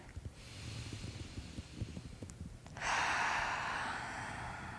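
A deep inhalation taken during a progressive muscle relaxation exercise, close and audible, swelling into a fuller airy rush of breath in the latter half with no talking.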